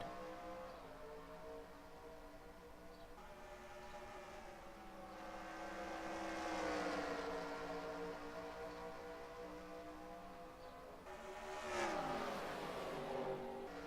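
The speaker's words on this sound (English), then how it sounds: "And the green flag is in the air. Dale Salzman takes the green flag. We're racing at Richmond." Race cars at Richmond in the NR2003 racing game, a faint pack of engines droning and revving as they pull away from the green flag, with pitch rising and falling as cars pass, no voices.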